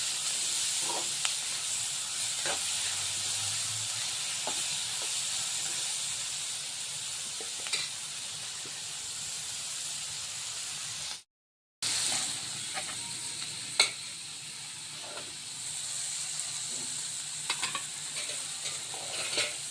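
Mixed vegetables for fried rice sizzle steadily in a hot pan, stirred with scraping, clinking strokes, with a brief silent gap partway through and no talk.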